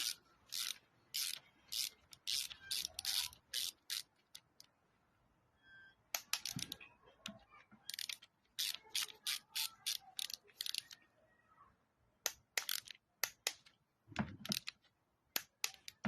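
A torque wrench ratchets while tightening a bolt on a BMW N47 diesel engine during a timing chain kit replacement, giving rapid, close clicking bursts in short runs separated by pauses.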